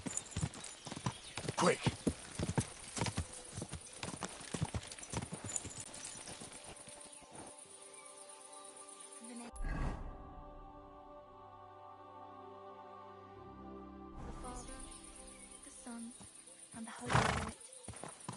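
Horse hooves clatter in a fast gallop with several neighs and whinnies in Kingdom Come: Deliverance 2, a player shouting over it in bursts, then the hooves drop away into a quieter stretch before resuming.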